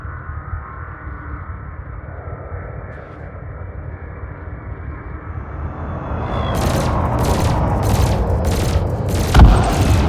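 Ship cannon fire in the Elite Dangerous space game comes as about five or six loud, evenly spaced blasts over a rising engine roar, all close and with no talk.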